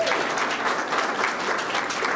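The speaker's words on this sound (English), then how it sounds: "led by Kerry Griffin, give her a round of applause, please." An audience claps at a ribbon cutting for a Boston Public Library special collection, a dense, even burst of applause heard on its own.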